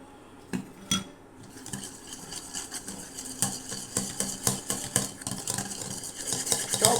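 Chocolate cake batter is mixed by hand in a bowl, with a utensil clinking and scraping against the sides in quickening, uneven strokes that grow busier and louder toward the end, and no one speaking.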